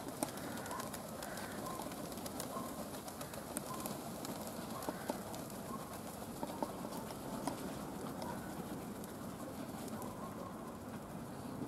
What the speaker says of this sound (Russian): Птица.